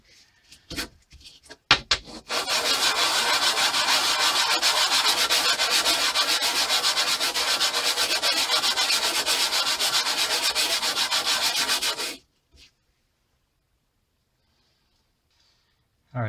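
A pewter medallion is rubbed back and forth on 220-grit sandpaper, producing a close, steady rasping scrub for about ten seconds after a few light taps, then stopping abruptly into near silence.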